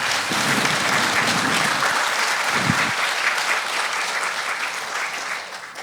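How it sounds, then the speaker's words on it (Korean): A book concert audience gives a priest a big round of applause for his retirement, dense, loud, sustained clapping from a crowd that holds steady and then tapers slightly at the end. "우리 한번 큰 박수로 응원해드리면 어떨까요?"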